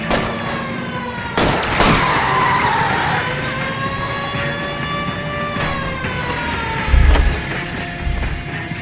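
Tyres squeal in long wavering skids as a car slides during a chase in L.A. Noire, mixed with engine drone and a few sharp thuds and bumps along the way, with no talking.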